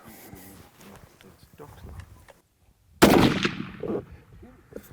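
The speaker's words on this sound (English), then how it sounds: "So run a couple shots down range here, and we'll see what happens." Rifle fired down range while hunting free-range kudu in South Africa: people talk quietly at first, then after a brief pause a single loud, close shot cracks and rings out, followed by more talk.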